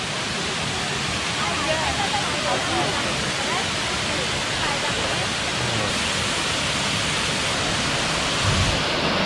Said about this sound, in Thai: น้ำตกไหลลงมาจากหิน